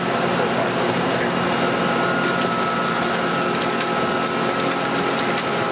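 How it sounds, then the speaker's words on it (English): Loud constant whirring drone of a dryer heater in a screen printing factory drying freshly printed items, a steady broadband mechanical roar with faint clicks throughout. "That's the heater to cool them. I mean, to dry them."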